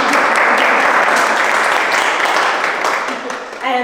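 Audience applause after sponsor thanks at an informal morning artist talk, a steady, loud wash of clapping that slowly tapers off near the end as a voice begins to speak.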